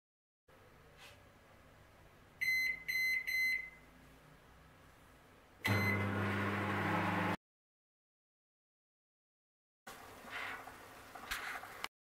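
A microwave oven runs while reheating mung dal halwa in a home kitchen, with a faint hum and a short series of quick electronic beeps, then a louder whirring stretch, a silent gap, and a later burst of clicks and beeps.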